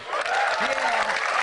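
Applause from a live audience at a comedy stage show, a broad steady clatter of clapping throughout, with a voice briefly rising over the crowd.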